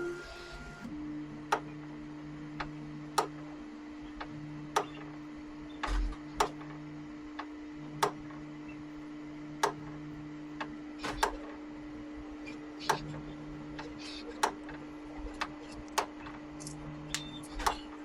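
A steady mechanical hum with a motor tone cutting in and out, punctuated by regular sharp ticks and clicks, as the bed of a Flashforge Creator 5 tool-changer 3D printer moves down.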